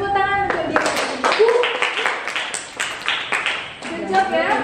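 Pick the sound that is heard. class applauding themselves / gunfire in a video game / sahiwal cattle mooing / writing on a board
class applauding themselves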